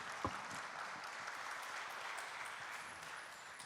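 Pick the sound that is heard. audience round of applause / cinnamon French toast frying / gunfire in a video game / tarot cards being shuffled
audience round of applause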